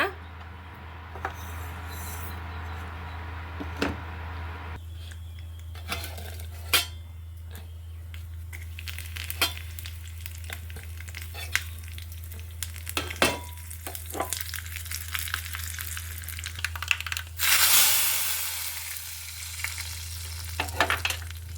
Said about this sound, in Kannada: ಈಗ ಒಗ್ಗರಣೆ ಹಾಕ್ಕೊಳ್ಳೋಣ